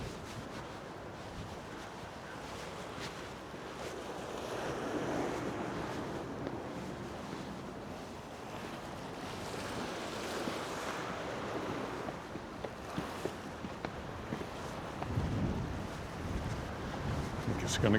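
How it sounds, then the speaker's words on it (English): Big waves roll and crash in repeated surges at Palmanova, Mallorca, while wind buffets the microphone, a broad rushing roar that swells and fades over time. "Yes, they're big waves for Palmanova."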